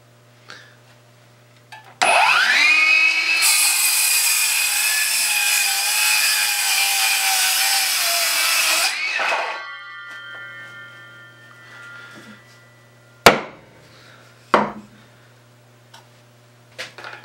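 A right-hand drive Ryobi brushless cordless circular saw with a new blade makes one loud, steady skim cut through wood for about seven seconds, then winds down. Sharp knocks and clatter follow in the quiet afterward.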